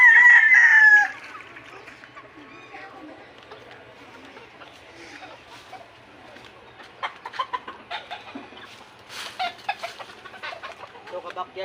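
Backyard chickens with a rooster crowing loudly and close at the start, then softer clucks and chatter from the flock scattered through the rest.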